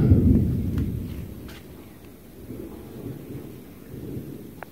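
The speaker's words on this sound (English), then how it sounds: "We're going to have a storm here in a little bit" Thunder from an approaching storm rumbles low and far off in a workshop setting, a heavy rolling boom at the start that fades into a long soft grumble with faint rustling, no talk.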